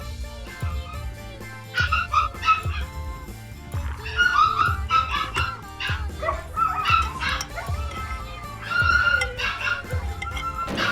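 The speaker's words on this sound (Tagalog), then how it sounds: "lakas ng tahol ng aso" A dog barks loudly in repeated sharp bursts close by, with whimpering yips between the barks.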